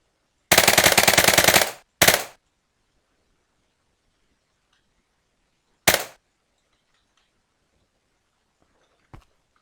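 A machine gun from a Minecraft gun mod fires one rapid burst, then a short burst, a single later shot and a faint final pop, each sharp and loud against near silence.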